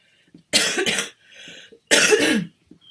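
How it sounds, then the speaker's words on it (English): Two sharp, close coughs separated by a short breath, loud and abrupt against near silence. "I have a bit of a cough"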